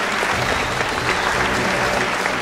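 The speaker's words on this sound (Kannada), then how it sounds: "ಆ ರಿಯಲ್ ಲೈಫ್ ಹೀರೋಗೆ ಒಂದು ದೊಡ್ಡ ಚಪ್ಪಾಳೆ ಬರಬೇಕು ಕನ್ನಡಿಗರೇ" Sustained, dense applause from a large audience at a News18 Kannada awards ceremony, steady and loud throughout with no break.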